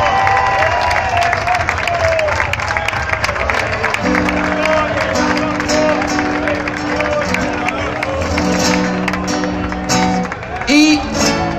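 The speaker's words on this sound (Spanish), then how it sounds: "¡Un fuerte aplauso para Teo!" A crowd cheers and applauds for Teo, a C.F. Talavera team member, at a celebration of the 2014 league win. The clapping and cheering stay dense and fairly loud throughout, with tonal sounds and a brief louder burst near the end.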